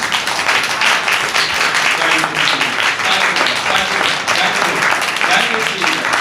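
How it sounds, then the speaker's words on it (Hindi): Church congregation in Bathinda clapping together after a sermon, a dense continuous wash of applause with voices mixed in throughout. "ताली बजा के हम लोग करना।"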